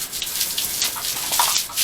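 A hose sprays water as pigs are bathed, a continuous loud splashing hiss that swells and dips without voices.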